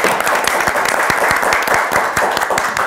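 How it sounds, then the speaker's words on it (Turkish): Loud, dense studio audience applause on a Turkish TV word-game show, a continuous wash of many hands clapping close and even throughout. "O zaman Mevlüt Hanım'a da bir alkış verelim efendim."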